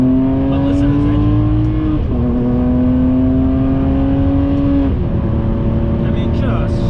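A Ferrari 599 GTB Fiorano engine revs up in long climbing pulls, broken by two quick gear shifts, droning close and continuous throughout.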